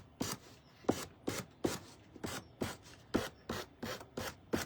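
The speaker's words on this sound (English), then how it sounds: "I'm gonna sand this a little bit more." Sandpaper rubs on a handmade wooden church wall hanger in steady back-and-forth strokes, about ten close, even rasping passes in a regular rhythm with no voices.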